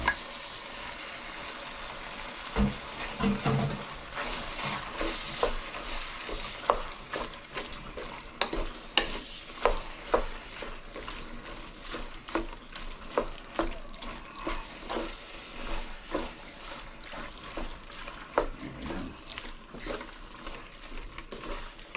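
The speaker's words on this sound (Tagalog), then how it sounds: "Ilagay na natin itong yung kahapon na pinaglagaan sabaw." Yesterday's boiled broth is poured into a hot pan and stirred, giving a soft liquid sizzle with repeated scraping and clinking of a utensil against the pan throughout, close up and with no talk.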